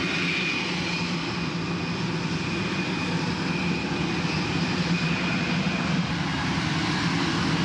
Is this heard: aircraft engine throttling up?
yes